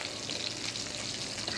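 Meat sizzles and fries steadily in a pan, a dense, even crackle held close throughout with no talk.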